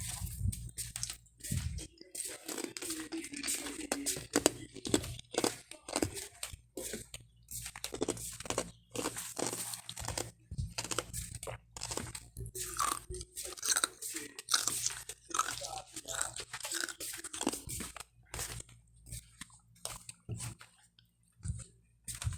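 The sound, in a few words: chewing on ice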